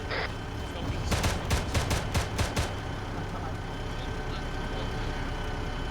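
Gunfire in an ArmA 3 military simulation session, a quick burst of about seven sharp rifle shots in rapid succession, fairly close, over a steady rumble of vehicle engines that continues after the shooting stops.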